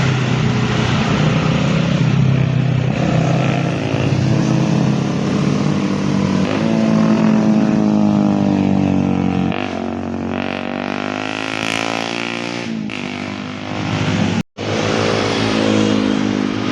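A green motorcycle rides along Marcos Highway, its engine droning loud and steady with harmonic whine that rises and falls through gear changes, then cuts out for a brief instant near the end before resuming.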